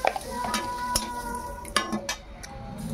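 Salt and turmeric hit hot oil in a kadai while a utensil stirs, giving a soft sizzle with sharp metallic scrapes and clinks against the pan, close by.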